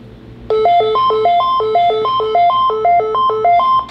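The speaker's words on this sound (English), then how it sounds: "Is it ringing?" A phone ringtone plays a loud, repeating electronic melody of short bright tones in a steady looping pattern, close and clear with no voices over it.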